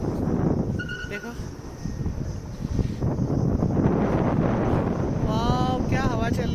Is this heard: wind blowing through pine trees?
yes